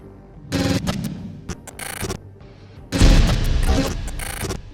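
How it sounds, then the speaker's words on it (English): A SMAW rocket launcher fired at a Z-11 helicopter in Battlefield: a short burst of harsh, booming noise, a brief lull with scattered cracks, then a louder, longer rumbling blast. "He jumps out of it, and he's going to use the SMAW to take out the opposition Z11 while in mid-air"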